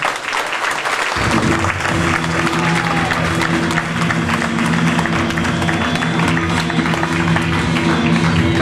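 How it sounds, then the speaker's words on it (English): Crowd at a Delaware MMA combat sports event breaks into loud, sustained applause and cheering that fills the whole stretch, with a steady low hum entering about a second in. "let's give a round of applause for Mike Ames."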